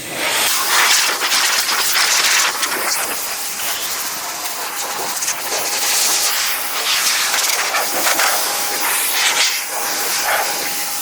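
A Sun Joe SPX 4001 electric pressure washer sprays the tires of a 2018 Mustang GT, giving a loud, steady, broad hiss of spray that runs unbroken throughout, with no voices.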